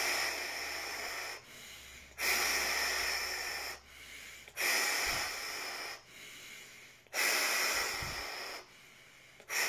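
Rapid, deep supra-oxygenation breathing: forceful, hissing breaths about every two seconds, in a steady rhythm of roughly four long cycles, close and loud, with no talking.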